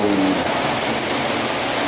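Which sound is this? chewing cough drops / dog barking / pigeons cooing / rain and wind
rain and wind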